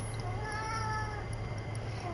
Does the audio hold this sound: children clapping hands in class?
no